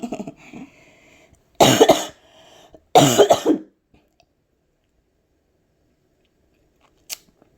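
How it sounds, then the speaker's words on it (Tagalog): Two harsh, loud coughs a second apart, followed by quiet and a faint click later on. "inuubo po ako"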